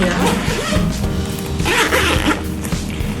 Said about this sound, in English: So move on to the next zipper here. Here, let's open it up.